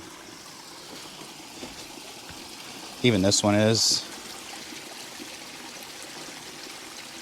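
A small koi pond waterfall trickles in a constant soft wash of running water that continues throughout, while a voice speaks briefly in the middle.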